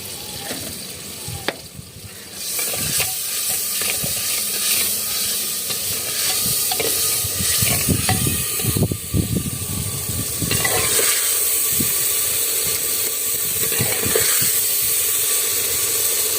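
A tadka tempering of oil and ground red chili sizzles and hisses steadily in a pan, stirred now and then with scraping clatters, loud and close, with no talk.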